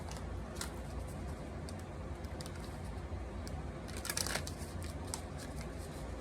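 Playing or tarot cards being shuffled by hand during a reading, a soft continuous riffling and rustling with a denser burst of flicking near the end, close and quiet.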